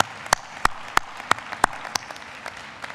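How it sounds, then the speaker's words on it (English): Graduates applaud their families at a Texas A&M commencement ceremony, with a few loud, evenly spaced claps standing out near the front over a faint, distant wash of applause from the crowd. "graduates, please give your family members a big round of applause"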